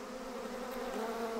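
Killer bees, an aggressive African-derived honeybee strain spreading through Arizona and Texas, drone in a steady, continuous swarm buzz, close and moderately loud, with no voices.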